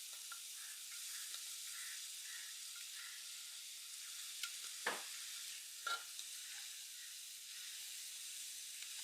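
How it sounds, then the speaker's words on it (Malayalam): Beans, carrot and soybean being stir-fried for a mixed Kerala thoran, giving a steady close sizzle and hiss with a couple of sharp spatula scrapes against the pan partway through; no one talks. "ബീൻസും ക്യാരറ്റും സോയാബീനും എല്ലാം കൂടെ ഇതിനകത്തോട്ടൊന്ന് തട്ടി കൊടുക്കാവേ"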